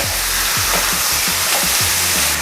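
Pork sizzles loudly after being added to a hot pan with sautéed garlic, onion and ginger, giving a steady, close frying hiss. Soft clinks and stirring knocks come through at intervals.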